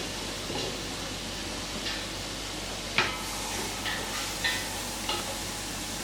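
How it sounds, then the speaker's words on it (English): Onions sauté gently on low heat in a pan, a soft continuous sizzle with a few light utensil clinks and scrapes, no talking. "I'm just going to saute them on a very low heat"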